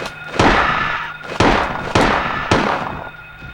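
Four heavy gunshots in the PS1 game Silent Hill, evenly spaced about a second apart, each a loud dull boom with a short decaying tail.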